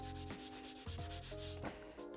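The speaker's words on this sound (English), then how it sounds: "Use the back of a sanding sponge." Soft, close rubbing strokes from the back of a sanding sponge drag across a Warhammer miniature in short repeated passes, quiet and dry with no voices.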